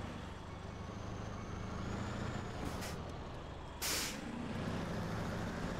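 A truck idles with a steady low diesel rumble in the SnowRunner video game, broken by two short bursts of hissing air as the trailer is detached, the second longer and louder.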